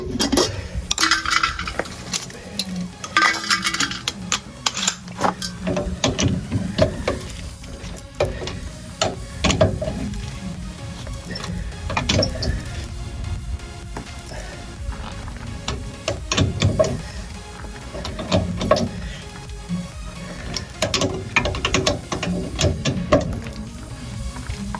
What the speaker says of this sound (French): faut serrer la roue